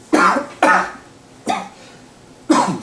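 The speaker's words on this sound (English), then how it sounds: "So excited you just have to cough up a phlegm" A person coughs four times in sharp, harsh bursts spaced unevenly, close and loud, with brief quiet gaps between them.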